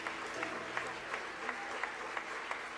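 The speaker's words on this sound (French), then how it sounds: "on continue d'applaudir" Soft, steady applause from a church congregation at an evening service fills the space, with distinct rhythmic claps at regular intervals over a low crowd murmur and faint talk.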